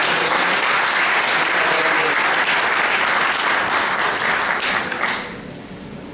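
Audience applause at an entrepreneurship talk, a loud sustained burst of clapping from a seated crowd that holds steady and then tapers off near the end.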